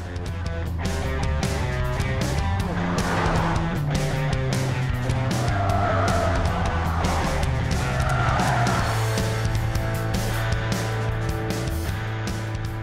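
A 2016 Audi Q7 45 TDI diesel SUV with quattro drive in dynamic mode pulls along at speed, its engine droning steadily with shifting tonal layers and road and tire noise throughout, close and loud, with no voices.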